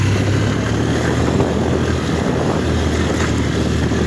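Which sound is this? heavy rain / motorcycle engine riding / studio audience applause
motorcycle engine riding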